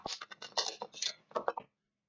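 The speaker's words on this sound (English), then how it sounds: "Sorry about the shuffle noise." Tarot cards shuffled by hand in a quick, near run of soft riffling bursts and light slaps, stopping abruptly into silence.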